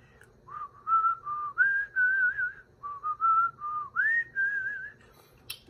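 A single person whistles the Happy Birthday melody alone, clear and close, phrase by phrase with short pauses between notes.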